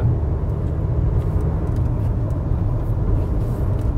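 Steady low rumble of a Maruti Suzuki Brezza with manual transmission cruising at speed on a highway in fifth gear, with constant engine drone and road noise filling the cabin, no talking.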